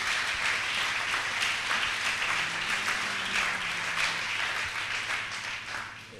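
A church congregation applauds the Lord with sustained, dense clapping from many hands, steady and fairly loud, with a brief voice faintly beneath the noise.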